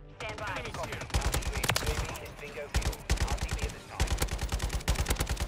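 Kastov 762 AK with a conversion kit firing in Modern Warfare 3: several loud, rapid automatic bursts separated by short pauses, each a sharp run of evenly spaced cracks.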